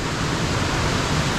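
River rapids rushing past boulders in the Ohiopyle gorge near Cucumber Falls: a loud, continuous, broadband roar of churning water, steady and unbroken throughout.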